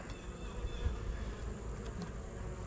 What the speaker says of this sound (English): So these are survivor bees.